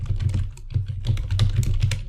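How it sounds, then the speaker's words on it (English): Fast, forceful typing on a computer keyboard produces loud, close, clattering keystrokes in a steady, hurried rhythm throughout. "The typing is so aggressive."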